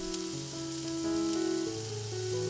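Chopped onion fries in a kadai with a steady, even sizzle that runs unbroken throughout, while sustained tonal sounds sit over the frying.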